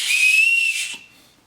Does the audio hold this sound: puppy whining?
no